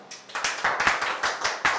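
A small classroom audience claps in a sparse, uneven rhythm, with roughly a dozen distinct slaps over a couple of seconds. The claps are close and fairly crisp, with no talking over them.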